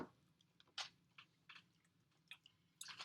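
Almonds are chewed close to the mic in a quiet, irregular series of crunchy bites and soft mashing sounds.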